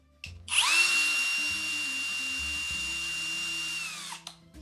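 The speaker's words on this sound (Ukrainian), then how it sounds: "Вмикаємо режим свердління." A Kraissmann 132 E-ABS-BL 20UL cordless impact drill in drilling mode spins up with a rising whine, holds a steady high-pitched motor tone for several seconds, then winds down; no one speaks.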